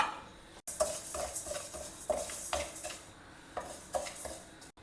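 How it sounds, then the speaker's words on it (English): Quarter cup of moong dal dry roasting in a pan, stirred with a utensil that scrapes and clinks against the metal in repeated soft strokes over a faint sizzle, fairly quiet and close, no voices. "For making Ven Pongal, I have taken 1/4 cup of Moong dal. First we will dry roast it very well."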